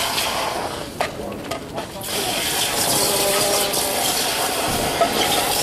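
Water runs and splashes in a busy restaurant kitchen after pans get too hot, a steady rushing hiss that starts rough and uneven with a few sharp knocks, then settles into a continuous flow.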